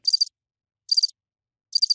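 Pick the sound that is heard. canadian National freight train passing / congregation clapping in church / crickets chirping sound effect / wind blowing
crickets chirping sound effect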